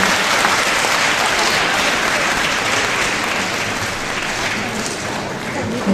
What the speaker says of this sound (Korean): 여러분 박수 한번 다시 주세요.